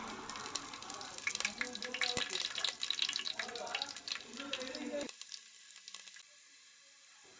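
Garlic and ginger sizzling in hot coconut oil in a pan, a dense crackling hiss that fills the first five seconds, then cuts off abruptly to near silence.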